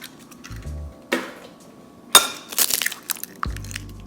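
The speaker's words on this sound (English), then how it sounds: "crack in 2 eggs" Two eggs are cracked into a bowl of hamburger meat for meatballs, giving sharp shell taps and cracks with soft knocks and clinks spread across a few seconds in a quiet kitchen.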